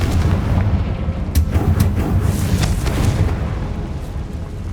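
Repeated fiery spell blasts from the Confringo curse in the video game Hogwarts Legacy, a dense barrage of booming bursts and crackling impacts over a steady low rumble, loud and close with no talking.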